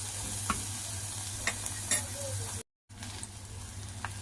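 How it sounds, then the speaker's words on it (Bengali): Grated carrot for a bread chicken roll filling sizzles gently in a pan, lightly fried rather than deep-fried, while a utensil stirs it now and then. The hiss is steady and close, with a brief silent gap partway through. "এবার আবার এটাকে আমি হালকা করে ভাজতে থাকবো"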